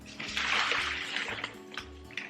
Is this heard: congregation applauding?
no